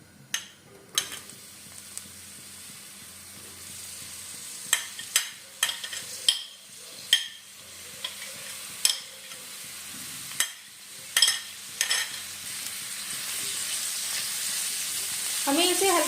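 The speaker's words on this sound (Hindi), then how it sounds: "तब हम इसमें प्याज ऐड करेंगे" Chopped onions frying in hot oil while being stirred: a constant close sizzle with regular sharp clacks of a spoon against the pan, the hiss swelling louder toward the end.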